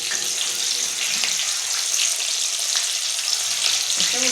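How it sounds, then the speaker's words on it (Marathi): Green chillies frying in hot oil for chivda, a dense continuous hiss and sputter, close and loud, with no voices. "कसं उडतात तेलात तळाताला."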